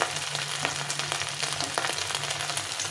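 Spice masala of turmeric, cumin and chili powder sautéing in oil for a lentil dal with bottle gourd, giving a steady, close sizzle and crackle with faint stirring scrapes throughout.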